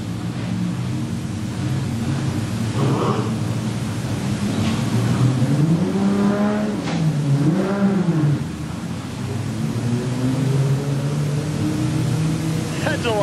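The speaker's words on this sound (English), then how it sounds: "Some donuts in front of the fans in turn four." A production sedan race car spins donuts at a speedway in front of fans in turn four, its engine droning steadily with rising and falling revs throughout, while a commentator talks over it.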